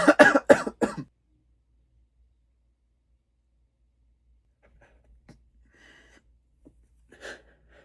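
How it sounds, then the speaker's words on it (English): A quick burst of three or four harsh coughs comes close and loud at the start, followed by near silence with only faint scattered rustles and a small sound near the end. "you have to cough at school, and then you have to cough again"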